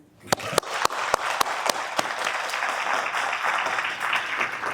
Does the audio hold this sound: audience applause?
yes